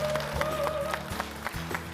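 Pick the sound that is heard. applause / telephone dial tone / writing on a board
applause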